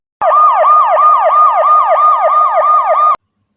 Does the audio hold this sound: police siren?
yes